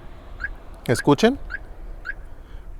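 A few short electronic chirps from a car alarm remote sound close by as the shock sensor is deactivated, with a brief spoken word in between them.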